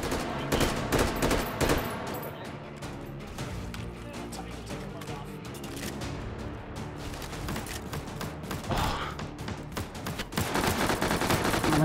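Rapid bursts of video game gunfire from armor piercing incendiary rounds in Hot Dogs, Horseshoes & Hand Grenades in VR, dense sustained shooting with sharp cracks, moderately loud, with occasional talk mixed in.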